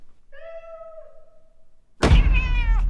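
A single drawn-out meow from a cat, then a sudden loud thump followed by a harsher, strained cat cry.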